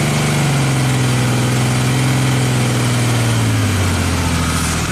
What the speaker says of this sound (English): Can I rev it up?